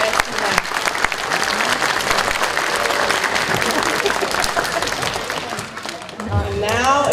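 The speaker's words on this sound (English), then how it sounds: "Let's give those students a round of applause for their hard work" Students, staff and families at a pre-K morning assembly give a round of applause, brisk and full for several seconds, with voices mixed in and talking rising as it ends.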